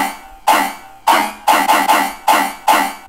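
A dry synth bass pattern with no effects applied, playing short plucked notes in an uneven rhythm of about seven hits over three seconds, each note decaying quickly, loud and alone.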